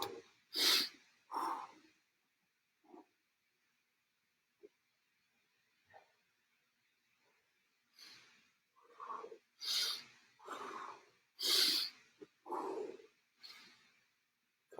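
Heavy breathing from people recovering after a soccer drill, a few loud breaths and snorts at the start, then near silence, then a run of close, deep, rhythmic breaths and gasps.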